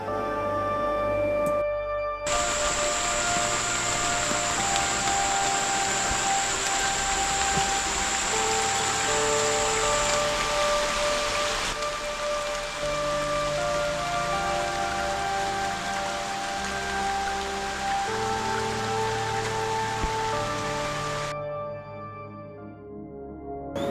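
Steady heavy rain pours down over dense rainforest for the whole stretch, a dense, even hiss with no voices, fading out near the end.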